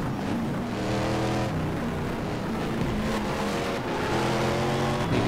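Race car engine in a racing video game played with a steering wheel, a loud steady drone with layered harmonic whine that rises and dips with the revs, continuous and close, no talking.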